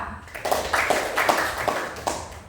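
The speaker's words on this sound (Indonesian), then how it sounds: "tepuk tangan semua untuk kelompok 2" A school class claps for a student group, a short burst of steady, moderately close applause from a small room of pupils.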